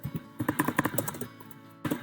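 Keystrokes on a computer keyboard while entering a formula into a spreadsheet cell: a quick run of close clicks, then a short pause and a couple more taps at the end.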